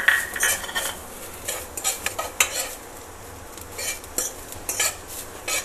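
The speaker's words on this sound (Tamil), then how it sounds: "இதே நெய்லேயே தேங்காய் பூவையும் போட்டு வறுத்துக்கலாம்." Grated coconut roasting in ghee in a pan for a Chettinad ukkarai sweet, with frequent metal spoon scrapes and clinks against the pan over a faint sizzle. No one speaks.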